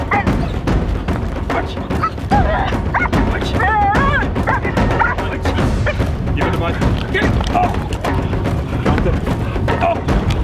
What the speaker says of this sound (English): She must start barking and wanting to engage in the target.